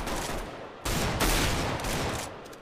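Gunfire from the video game Counter-Strike: Global Offensive rings out as dense, rapid automatic bursts, loud and continuous across a short stretch of under three seconds.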